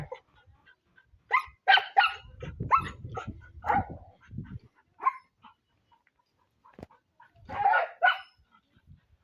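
A dog barks and yips in irregular bursts with quiet gaps between, fairly close and moderately loud.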